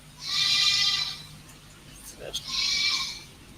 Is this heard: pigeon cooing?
no